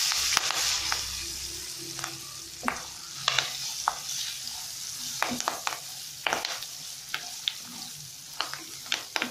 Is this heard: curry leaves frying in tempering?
yes